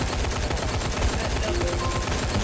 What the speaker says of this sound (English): I'm just gonna shoot randomly.